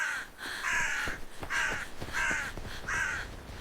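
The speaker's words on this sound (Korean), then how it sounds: "까마귀 떼가 몰려들고 있었습니다" A flock of crows gathers by a cold river, giving four loud, evenly spaced harsh caws close by, each call drawn out, with no other voices.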